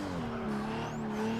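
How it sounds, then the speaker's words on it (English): A Toyota Supra or Nissan R34 Skyline in Forza Motorsport 6 brakes hard into the first corner, engine note dropping under a faint tire scrub, steady and close with no speech. "Coming down to the first corner, hard on the brakes and throwing the front end in."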